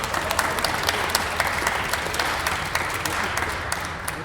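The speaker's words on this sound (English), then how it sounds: "So let's give them a big round of applause." An audience at a local candidate forum bursts into steady applause, dense clapping with sharp individual claps standing out and faint crowd murmur underneath, continuing throughout.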